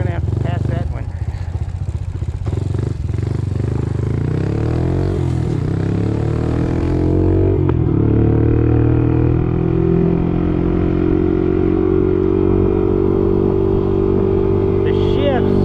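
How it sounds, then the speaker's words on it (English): A Honda CT motorcycle being ridden, its engine revving and dropping as it shifts through the gears on a freshly tightened clutch, loud and close with wind noise, while someone talks over it. "The shifts in between the gears, now that he tightened up that clutch to where, man, I tell you, it's tight."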